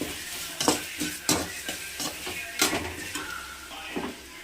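Tomatoes and green chillies frying with onion and curry leaves for fish curry, a steady sizzle punctuated by repeated scraping stirs against the pan, close and moderately quiet with no voices.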